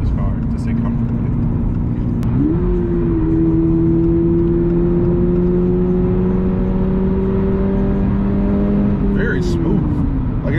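A loud, smooth 2022 Subaru BRZ engine hum rises in pitch and holds steady, then eases back down, heard from inside the car with no talk.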